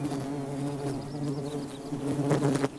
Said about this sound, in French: Des bourdonnements accompagnent l'accouplement.